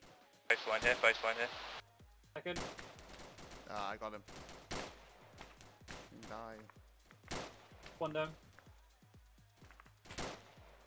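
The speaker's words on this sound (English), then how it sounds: "Keep laying down the rapid fire." Rapid automatic gunfire in the military game Arma, with repeated bursts of shots, some near and sharp, others farther off, broken by short pauses, with voices talking over the firefight.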